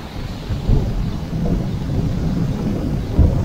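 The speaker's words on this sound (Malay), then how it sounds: "Ya, angin kuat lah petang ni." Strong wind buffeting the microphone on an afternoon beach, a steady low rumbling roar with gusty swells and heavier thumps near the start and end, with no voices.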